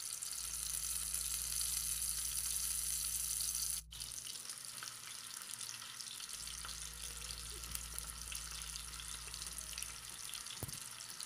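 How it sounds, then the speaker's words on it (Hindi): Beef seekh kababs frying on a flat tawa over a low flame give off a steady, close hiss of sizzling oil over a low background hum, briefly cut off and then resuming, with no one talking. "दूसरी साइड से भी इसी तरह हम 4 से 5 मिनट तक इनको लो फ्लेम पे फ्राई कर लेंगे"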